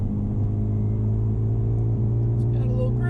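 2021 Mercedes-Benz AMG GLB35 in Sport Plus mode giving a low, steady engine growl from inside the cabin, a deep continuous rumble with a faint rising tone at the end.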